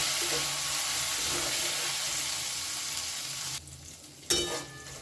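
Ginger spice paste sautéing in oil with salt for a Bengali dal, a steady close sizzle with faint stirring scrapes that drops out briefly near the end before a short burst of frying noise returns.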